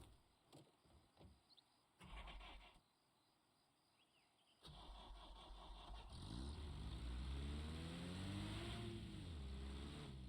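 A car engine in Arma Reforger starts after scattered clicks and knocks, then idles and revs up with climbing pitch, growing loud and steady as the vehicle drives off.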